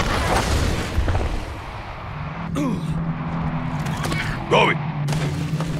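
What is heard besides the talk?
grenade explosions from video game Evolve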